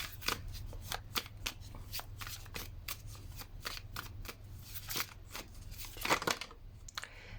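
Tarot cards being shuffled by hand, a steady run of crisp riffling bursts and soft slaps, close and clear over a low room hum, with no talking.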